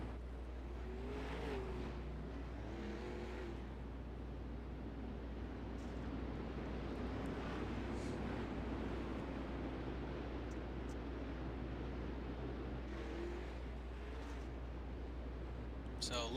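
360 sportsman sprint cars race around Limaland's dirt track, a continuous roar of engines rising and falling as cars sweep past at a distance, with a commentator talking over the field.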